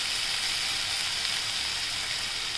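Cluster beans with garlic sautéing in a hot pan, a steady, even sizzle of frying running close and continuous throughout, with no talk over it.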